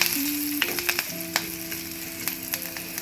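Vegetables for kootu curry frying in a pan, with a constant sizzle and frequent sharp clinks of a spoon stirring against the metal.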